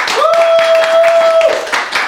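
Crowd clapping at a live roast event, a steady wash of applause running throughout, with a brief sustained tone and a voice layered over it partway through.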